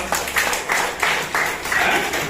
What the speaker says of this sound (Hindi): इस पर तालियां हो जाए जोरदार।